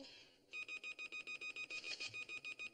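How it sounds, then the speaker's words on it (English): An emergency alarm on a science-fiction TV show sounds as a rapid series of evenly spaced high electronic beeps, about five per second, starting abruptly after a quiet moment and repeating steadily. "It's the emergency alarm."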